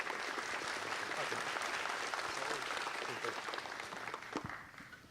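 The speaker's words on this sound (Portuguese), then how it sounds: "Peço para dar uma salva de palmas para o Euclides." Dense audience applause in a hall fills the space, steady at first and then gradually tapering off toward the end, heard from a moderate distance.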